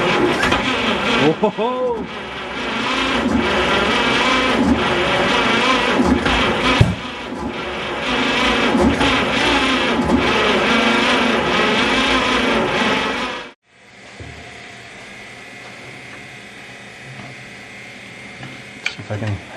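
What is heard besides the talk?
1951 Chevy pickup engine cranking and firing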